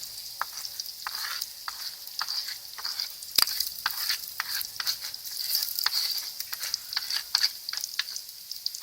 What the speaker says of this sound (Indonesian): Setelah bawangnya harum, kita masukkan bumbu yang telah kita haluskan.